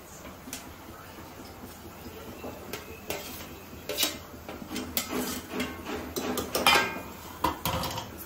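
Prawn pickle is stirred in a pan, with irregular clinks and scrapes of a spoon against metal that grow busier and louder toward the end.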